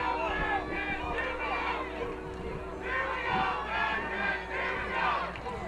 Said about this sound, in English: It's some yelling for the Bearcats, some yelling for the Black Cats.